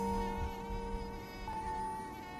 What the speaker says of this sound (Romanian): țânțarul enervant din dormitor